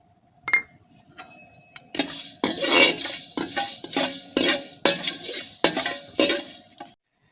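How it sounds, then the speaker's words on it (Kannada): Coriander seeds frying in a pan, being stirred with a metal spoon: loud, close clinks and scrapes in uneven bursts over a light sizzle, with no voices. "ಇವಾಗ ಎರಡು ಟೇಬಲ್ ಸ್ಪೂನ್ ಆಗುವಷ್ಟು ಧನಿಯಾ ಕೊತ್ತಂಬರಿ ಕಾಳನ್ನು ಹಾಕಿ ಫ್ರೈ ಮಾಡಿಕೊಳ್ತಿದ್ದೇನೆ"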